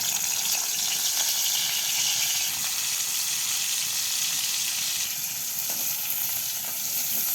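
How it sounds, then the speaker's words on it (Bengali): Chopped onion and garlic fry in hot oil with a steady, close, bright sizzle that holds evenly throughout, with no talking. "তেল দিয়ে দিলাম, পেঁয়াজ আর রসুন কুচি দিয়ে দিলাম"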